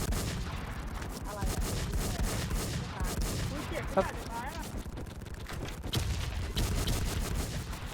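Gunfire in a video game shooter rattles in dense, continuous bursts, with a few heavier shots standing out. Excited talking runs over much of the shooting.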